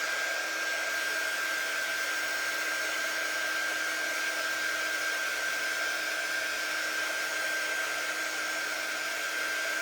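A hair dryer blows on a damp kitchen-towel craft piece, a loud, constant whooshing roar with a steady high whine that runs unbroken for the whole stretch, close by and with no talk.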